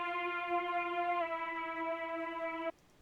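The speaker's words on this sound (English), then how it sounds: "the toe lead from my one-shot kit with Cypher." Synth lead one-shot from a Cypher kit: a single bright, buzzy sustained tone holding steady for nearly three seconds before cutting off abruptly, heard alone at moderate level.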